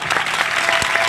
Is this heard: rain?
no